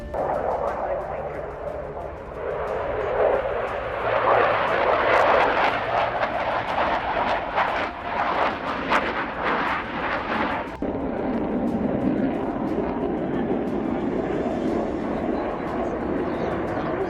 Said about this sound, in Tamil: சோ இந்த போட்டியில உருவான ஒரு விமானம் தான் இந்த மிக் 29 ரக விமானம்